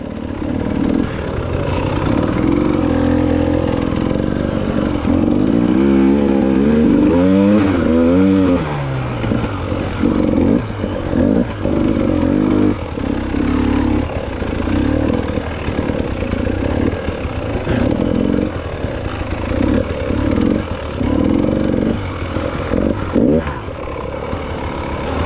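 An enduro dirt bike's engine drones loud and close throughout an enduro race, revving up and down with rising and falling pitch sweeps and clattering over rough ground through trees, with no talking.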